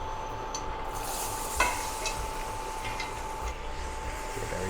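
Vegetables hitting a dark Cajun gumbo roux in a pot for duck gumbo, giving a steady close sizzle and frying hiss with light stirring scrapes throughout and one brief louder clink partway.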